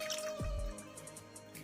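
Homemade desi ghee strained into a dry pot gives a single soft drip and splash over a faint steady background hum, quiet and close.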